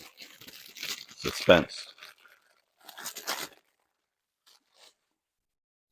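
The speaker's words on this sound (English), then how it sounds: "Sorry for all the crinkling." Toy packaging for a Happy Meal toy crinkles and crunches in close, noisy bursts, mixed with a person talking, then fades to near silence with only a few faint rustles.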